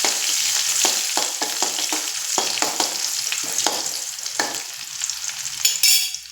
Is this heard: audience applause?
no